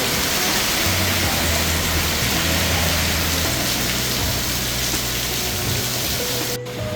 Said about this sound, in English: Look at this rain, man.